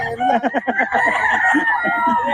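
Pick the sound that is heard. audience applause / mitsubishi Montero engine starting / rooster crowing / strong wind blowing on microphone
rooster crowing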